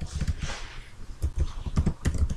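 Fingers type a website address on a computer keyboard in the Chrome browser, a close, steady patter of crisp keystrokes in short irregular bursts, with no talk over it.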